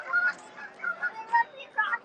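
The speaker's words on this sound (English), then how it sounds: "Where the geese are battling right now." Geese honking while fighting outdoors at a flooded brickworks, several sharp overlapping honks in irregular bursts at moderate distance.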